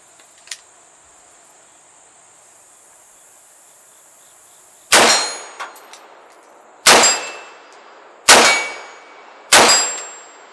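AR rifle rounds hit steel targets on a hill 50 yards away, producing four loud, sharp clangs with ringing decay at even intervals. Quiet insect chirping carries on behind them.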